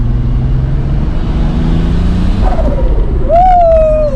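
Close and loud, the engine of a turbocharged VW MK3 VR6 wagon pulls under acceleration, its droning harmonics building before a sharp rising whistle near the end.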